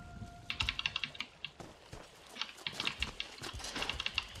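Computer keyboard keys clatter in quick, uneven bursts of close, crisp clicks, typing continuously with short pauses, during a session of the game The Elder Scrolls Online.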